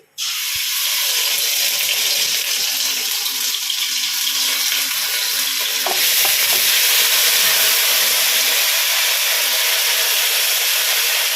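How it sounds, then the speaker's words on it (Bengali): Garlic paste hits hot oil on an induction cooktop with a sudden loud hiss, then sizzles continuously and intensely, close and dense, with faint spatters throughout. "ইন্ডাকশনটা একটুখানি আস্তে করে দিলাম কারণ অনেকটা গরম হয়ে গেছে তেলটা। এবার আমি রসুন বাটা দিচ্ছি।"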